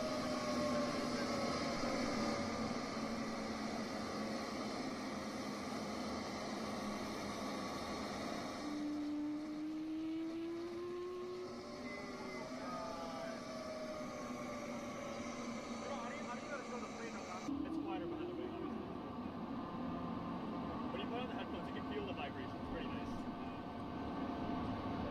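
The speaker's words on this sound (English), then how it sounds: "That was the first showcase of the A220 sounds" Airbus A220 engine sound in a flight simulator game is a steady, droning jet hum with shifting whining tones that change abruptly partway through and runs on for about 25 seconds.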